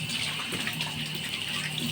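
Water from a kitchen sink faucet runs steadily while a vegetable is washed before peeling, a close, continuous splashing rush that fills the whole short stretch.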